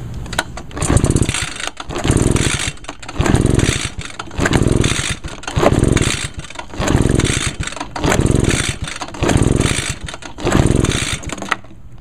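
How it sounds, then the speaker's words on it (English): An Echo PB-580T backpack blower engine is pull-started repeatedly with the spark plug out for a compression test: about eight even, rhythmic bursts of cranking, close and loud, with no voices. "I'm going to pull over the engine until the needle will stop moving here"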